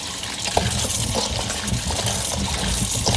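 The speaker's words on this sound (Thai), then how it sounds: "เราก็มาล้างน้ำเกลือออก" Running water rinses salt water off cut mango pieces, a steady close splashing and gushing with a few small clinks, no voices.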